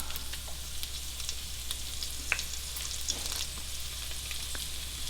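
Onions frying gently in a little oil in a pan: a soft, steady sizzle with occasional faint pops and stirring clicks, heard alone over a low hum.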